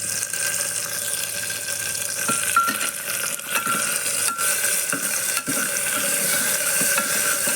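Onions frying in a pan for a rice and chana dal dish, a steady, dense sizzle holding at an even level throughout, with scattered faint clicks of stirring.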